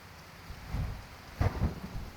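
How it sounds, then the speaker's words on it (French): Thunder rumbles over steady rain in a stormy scene in the video game Skyrim, with low booming rolls rising and fading over the background downpour. "On attend sous la pluie, vous savez, comme des pauvres rats."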